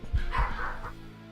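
Dogs bark and yip in a streamer's room, a few quick close barks in a burst over a low steady hum, then fading to quiet.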